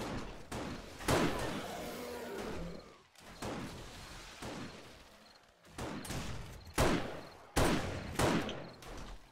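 Magnum gunfire in the video game 7 Days to Die: several loud, sharp single shots spaced a second or two apart, each followed by a decaying echo.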